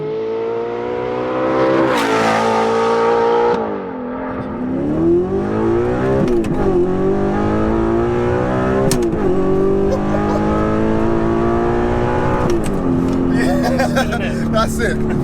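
A tuned Audi R8 V8 with a manual gearbox and air suspension revs hard toward its limit, climbing harmonics rising and dropping in repeated bursts, loud and close, with voices talking over it.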